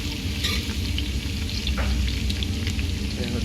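Garlic sizzling in hot extra virgin olive oil for chicken khichuri, a loud continuous crackling fry with occasional stirring scrapes, close and without talk.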